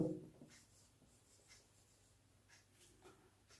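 Pen writing a sentence on paper or a board during a Hindi grammar lesson on adjectives, heard as faint, intermittent scratchy strokes over a quiet room background with no talking.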